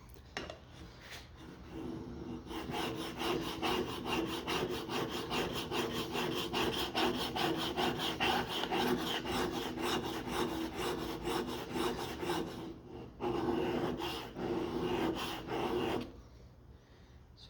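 A whittling knife blade drawn by hand across a sharpening stone, a steady run of close, rhythmic scraping strokes that pause briefly near the end before resuming.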